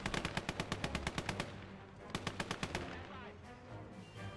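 Rapid machine-gun bursts in a World War II video game battle, fired at a Soviet T-26 tank; two quick rhythmic volleys with a pause between, then scattered distant shots.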